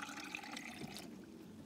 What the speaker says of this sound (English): So it's got an easy nozzle, just turn it, flows super fast.